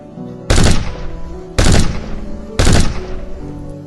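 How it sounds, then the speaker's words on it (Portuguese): Three loud, evenly spaced gunshots from a sound effect in an audiobook of a street-battle story, each a sharp close blast with a short ringing decay, alone without narration. "a velhinha disparou 3 tiros"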